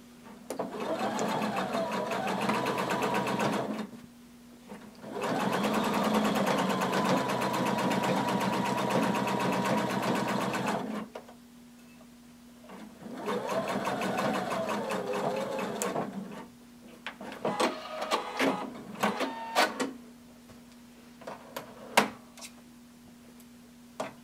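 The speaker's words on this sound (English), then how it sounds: "We're going to backstitch and sew to the bottom." Sewing machine running in bursts as it backstitches and stitches a hooded tunic, with three long steady runs of motor whir followed by quieter clicks, taps and handling noises, no talking.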